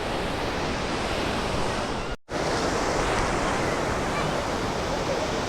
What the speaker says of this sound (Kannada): ಕೊಜಿಕೋಡ್ನ ಪ್ರಮುಖವಾದಂತಹ ಸಮುದ್ರದ ತೀರದಲ್ಲಿದ್ದೀನಿ